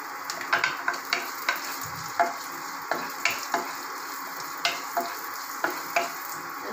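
Nuts and raisins fry in a pan with a constant close sizzle, punctuated by regular sharp clicks and scrapes of stirring.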